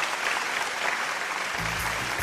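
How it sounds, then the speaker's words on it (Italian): An audience at an Italian UNICEF Calabria award ceremony applauds steadily, a dense, even wash of clapping that carries on throughout, with a brief low voice near the end. "Quale va un applauso e un ringraziamento."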